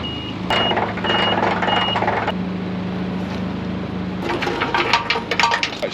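A truck reversing to launch a large boat, the Coral Explorer, with a pilot vehicle; its backup alarm beeps in a regular rhythm over engine rumble, then gives way to a noisier clatter near the end.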